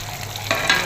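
Tomatoes go into a hot pan alongside frying onions, giving a brief steady sizzle with a couple of sharper spits and stirs near the end, close and alone without voices.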